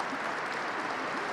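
An audience applauds at a ceremony in the Capitol rotunda, a brief, even patter of many hands clapping, moderately faint and heard alone.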